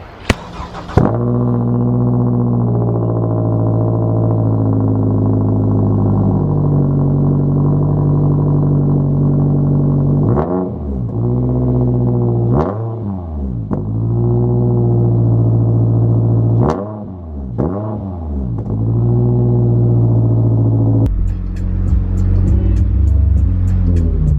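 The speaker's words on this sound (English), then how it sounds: "But first, we're going to get a cold start." A Scion tC with a 2.5-litre engine fires up from cold, settling into a loud, steady, close-up idle with a few sharp revs blipped midway before the sound shifts near the end.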